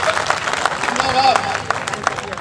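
An audience claps at a Hindi poetry recital (kavi sammelan) in Chatra, 2021. The applause is brisk and moderately loud, with voices mixed in among the claps.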